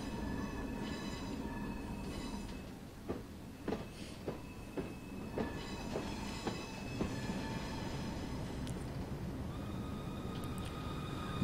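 An EE Type 3B train running in Train Simulator 2016, a steady rumble of wheels on rails with scattered clanks and faint squeals over the constant drone, no voices.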